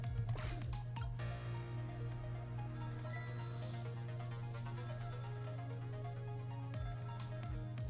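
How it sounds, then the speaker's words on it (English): Telephone ringing inside the Ghost Trick video game, a bright electronic ring repeating steadily over sustained game music, alone without talk. "now just wait for the phone to ring"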